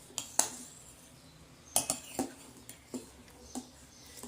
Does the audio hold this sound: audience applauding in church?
no